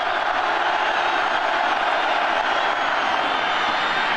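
A stadium crowd of 86,000 at a Nebraska college football game roars steadily behind the defense, a dense, loud wash of cheering that holds without pause.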